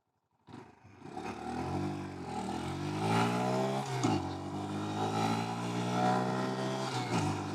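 A Honda Monkey motorcycle accelerating hard from a standstill, engine note climbing through the gears with a brief dip at each shift, steady and close throughout.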